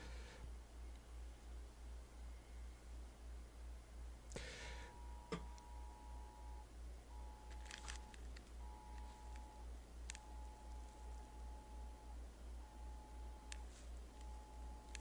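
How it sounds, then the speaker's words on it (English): A phone's emergency tornado warning alert sounds faintly: a repeating electronic tone pulses in short bursts over a steady low rhythmic throb, with occasional clicks. "Do you guys hear a emergency warning?"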